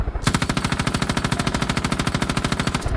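Rapid automatic gunfire in the video game Far Cry 5, a loud, fast, evenly spaced burst of shots lasting nearly three seconds with no talking over it.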